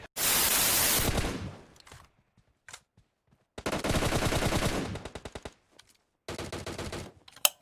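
Automatic gunfire rattles in PUBG Mobile, two long loud bursts with scattered single shots and short pauses between, then a final burst near the end.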